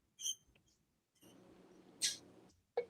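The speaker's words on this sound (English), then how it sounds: "No, what you're hearing is my my bird." A pet bird gives a few short, sharp, high chirps spaced irregularly, fairly close but quiet, over a faint low background murmur.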